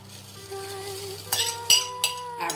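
Broccoli pieces set cut side down one by one onto a hot pan for roasted broccoli with lemon and garlic dressing, giving a few sharp clinks and soft sizzling over a steady kitchen hum, with no talking.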